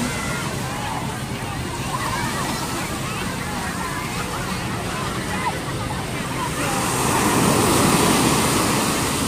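Rough surf rolls and washes steadily onto the sand at Repulse Bay beach, Hong Kong, swelling louder near the end, while people talk faintly over the water.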